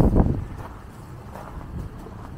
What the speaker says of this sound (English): Sorry about the wind here today